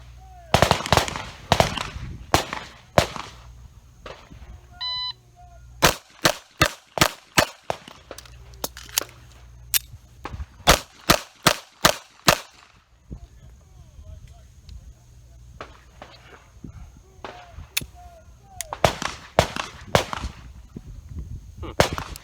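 Beretta 84 Cheetah pistol firing, with sharp shots in quick strings of several at a time and pauses between groups, fairly close and loud, and brief voices in the gaps.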